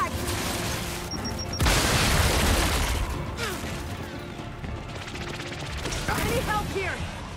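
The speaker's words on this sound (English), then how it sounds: "Throwing frag!" Frag grenade explosion in the Gears 5 video game, a loud booming burst amid chaotic gunfire and battle noise against ice-covered terrain, with a voice speaking over the action.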